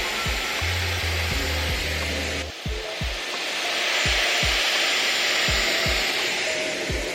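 A Dyson Airwrap hair styler with long barrel and flyaway attachment blows with a steady airy whoosh that changes pitch partway through, while sharp low thumps or bumps sound repeatedly close by.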